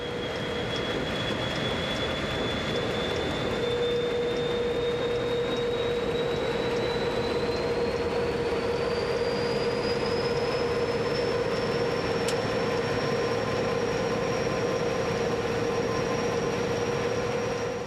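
An SNCF CC 72000 diesel locomotive runs steadily as heard from inside the cab, with a constant loud engine drone, a rising whine, and continuous rail noise throughout.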